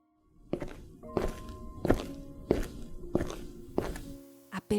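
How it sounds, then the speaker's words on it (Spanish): Quick, heavy footsteps thud in a steady rhythm, about six firm strides in a row, close and echoing slightly. "Apenas escuchaba el eco de unos pasos apresurados,"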